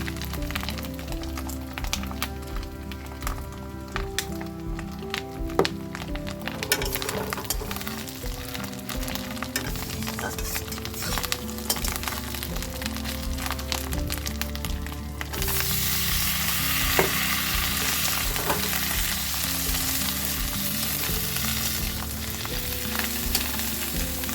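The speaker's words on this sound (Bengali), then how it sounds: "আর আমি ডিমটা আর পেঁয়াজ দিয়ে একটু লাল করে ভেজে নিচ্ছি" Egg and onion fry in a pan with a steady crackling sizzle and occasional clinks of a utensil, under a constant background hum that grows denser partway through.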